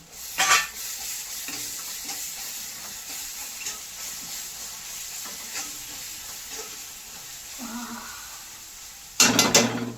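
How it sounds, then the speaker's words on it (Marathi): Garlic-ginger paste frying in a pan for pav bhaji, a steady soft sizzle with stirring scrapes, louder bursts of spattering at the start and again near the end. "आता ही लसूण अद्रकची पेस्ट पूर्ण टाकून देते."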